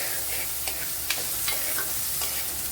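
About ten small onions go into a hot pan for a Kerala-style choora fish perattu, giving a steady, close sizzle of frying with a few light stirring scrapes throughout.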